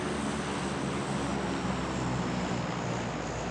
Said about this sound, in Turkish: Uçağın sesini kullanıp yaklaşıyorum.